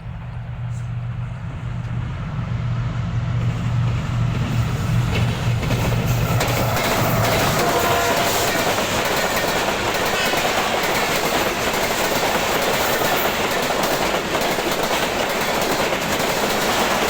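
Pak Business Express passenger train with a GEU 40 locomotive passes through Jahania station, with a horn-like tone early on, then a building, steady roar and clickety-clack of coaches rushing by close and loud.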